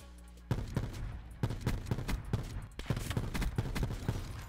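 Rapid, rhythmic gunfire from the Dark Matter-camo S6 Stingray gun in a video game, loud close shots in quick repeated bursts with a short gap near the middle.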